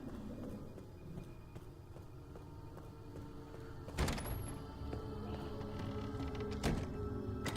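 A door is shoved open with an elbow in the Resident Evil Requiem video game, a dull thunk followed by a creaking, rattling swing and another knock against steady ambient game noise.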